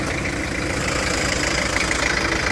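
A truck's single engine idles steadily and close by, a continuous low rumble with a faint knocking texture that holds level throughout, with no voices.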